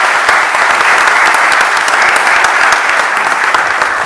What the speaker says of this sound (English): So I'd like to give a nice round of applause to Alicia Vitarelli.